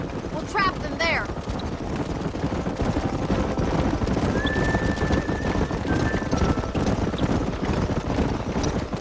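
Horses from a cattle drive in Red Dead Redemption whinny briefly, then hooves pound in a dense, continuous gallop that stays loud throughout, with a faint high tone drifting over the clatter.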